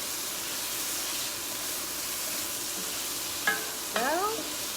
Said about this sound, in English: Chili powder right in. Gonna give this a nice stir.